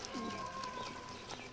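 Lotan and local domestic pigeons give a soft, brief coo at a loft during feeding time, faint and close, with a little quiet background movement.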